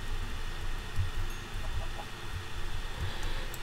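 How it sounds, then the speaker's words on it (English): Chickens clucking in the video game Minecraft, several short low clucks scattered over a steady background murmur, moderately loud with no talk. "gained 5 levels from killing chickens"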